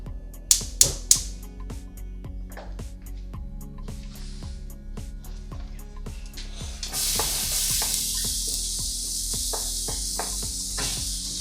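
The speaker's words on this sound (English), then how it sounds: "On medium heat, just let it melt first before you put the celery in." Celery frying in melted coconut oil in a fairly big pan over medium heat: steady close sizzling with repeated clicks and pops, then a louder burst of hissing partway through that continues to the end.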